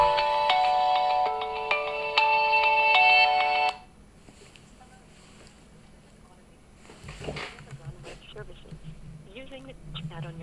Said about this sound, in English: they're calling me again